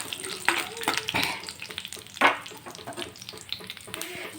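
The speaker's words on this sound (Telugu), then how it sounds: "ఇవైతే దోరగా వేయించుకోవాలి చిన్న మంట మీద." Tempering spices fry in oil over a low flame for semiya idli, giving a soft, close sizzle with scattered crackles and pops that rise and fall in small bursts.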